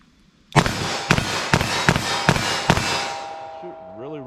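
A .38 Special revolver fires six sharp shots at a steady, quick rhythm from 14 yards, loud and close, with ringing decay after the last report.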